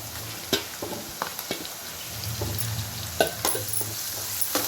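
Onions sizzle steadily in a hot pan with salt, curry leaves and green chillies, a constant frying hiss broken by a few sharp crackles and spoon clicks close by, with no talking.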